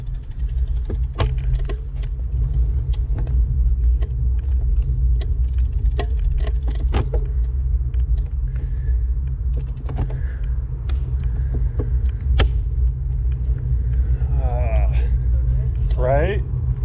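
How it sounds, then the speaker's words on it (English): A small adventure van passes close by on a curve of the Glacier Point road in Yosemite, its engine rumbling steadily under rattling, creaking bike mechanisms, with occasional clicks and a brief voice near the end. "little adventure van went around me on a curve"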